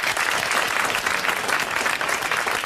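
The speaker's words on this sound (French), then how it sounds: "Vous l'applaudissez." Steady applause from a French TV studio audience in 1982, a dense, even wash of clapping that stays loud and close for the whole stretch with no voices over it.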